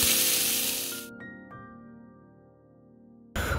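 Garlic, green chili and onion sizzle loudly in hot oil, a steady frying hiss that cuts out after about a second, leaving faint tonal hum, then returns abruptly at the end.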